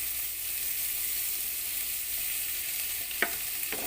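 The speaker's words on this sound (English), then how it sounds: "Just saute until it becomes soft." Tomatoes sautéing in a pan, a steady hissing sizzle heard alone, with two brief utensil taps near the end.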